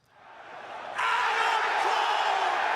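A crowd roars and cheers at a wrestling show, swelling from quiet to a sudden loud, sustained wash of noise that holds steady to the end.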